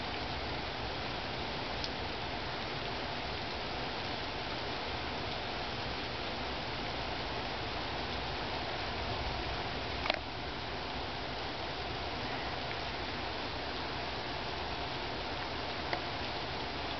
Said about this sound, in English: We desperately needed the rain.